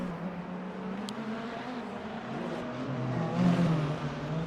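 A Ferrari race car overtakes in the video game Le Mans Ultimate at the Imola circuit, a steady engine drone whose pitch climbs and swells as it draws past, with no talk.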